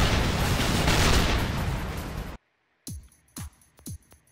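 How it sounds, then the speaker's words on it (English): A cannon in the Assault Gunner video game: a dense roar of blasts cuts to brief silence, then four sharp, punchy shots follow at quick, slightly uneven intervals, each with a short booming tail. "Jesus, I can just rapid fire the damn thing."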